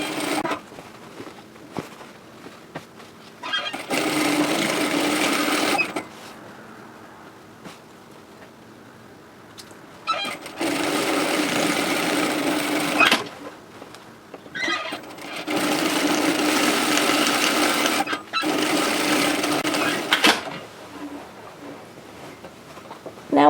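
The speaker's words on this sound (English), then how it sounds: "we're just going to repeat the top stitching effect we made on the other side" A sewing machine topstitches a seam on a lined tote bag in several loud, sustained whirring bursts separated by quieter pauses, with a voice talking in the gaps.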